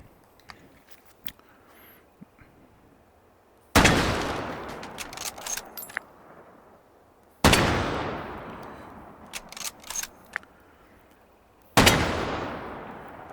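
Three loud, close rifle shots from a custom Mosin Nagant with a folding stock, shorter barrel and detachable scope in Battlefield 1, each cracking sharply and ringing out in a long tail, separated by quieter clicks and handling sounds.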